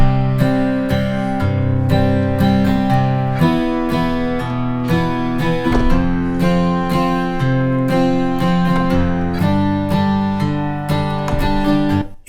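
Native Instruments Session Strummed Acoustic virtual guitar playing a 3/4 strumming pattern preset, with loud, bright rhythmic chord strums repeating in waltz time, recorded clean and alone.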